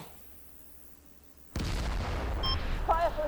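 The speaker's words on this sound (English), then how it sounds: "So the mortars are coming in on over here." Mortar rounds impact in the Combat Mission war game as a sudden loud boom hits partway through, then continues as a sustained rumbling barrage with scattered crackles after a quiet start.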